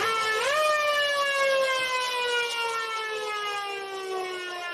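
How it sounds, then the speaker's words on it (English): A single long siren blast at a country football game in the Lower South West Football League, rising sharply then holding a loud, steady wailing tone that slowly sags in pitch over several seconds. "Siren sound, 8 minutes."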